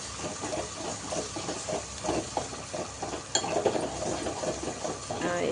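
Ginger paste is stirred in a pan while cooking ridge gourd and moong dal, with a fast run of rhythmic spoon scrapes over a faint sizzle and occasional louder clinks against the pan.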